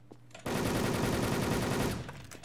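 Rapid automatic gunfire from the game Wolfteam erupts after a short quiet start, a dense, loud burst of fast repeated shots for about a second and a half before cutting off.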